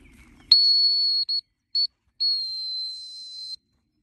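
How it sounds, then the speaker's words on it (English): A dog recall training whistle blown outdoors for Dalmatians, loud and close: one long steady blast, a brief break, then two short pips and a second long blast, with no talk over it. "So we'll do the first whistle."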